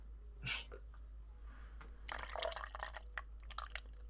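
Drinking water is poured to imitate urinating, making a brief splash followed by a longer run of trickling, dripping liquid sounds over a low hum.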